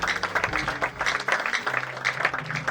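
A church congregation claps and cheers in praise, a brisk, uneven patter of hands with voices mixed in, moderately close and fairly steady throughout.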